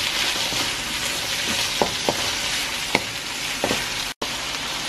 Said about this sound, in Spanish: Vamos a empezar a revolver todo.